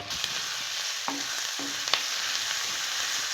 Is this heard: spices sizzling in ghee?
yes